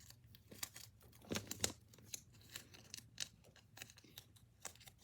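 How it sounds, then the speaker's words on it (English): Scissors snipping a small piece of tape, a few quick close crisp cuts with light crinkling of the tape around them, quiet and isolated. "take another piece and cut it like this"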